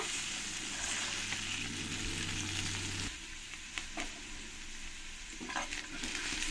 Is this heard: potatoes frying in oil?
yes